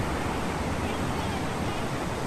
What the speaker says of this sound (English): one of the most thrilling things to me is just hearing the rush of the water